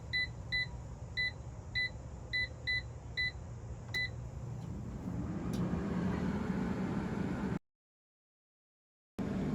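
An air fryer control panel beeps in a quick series of crisp chirps as the temperature is set to 400 degrees and the time to 4 minutes. Its fan then whirs up into a steady hum while cooking eggplant pizzas.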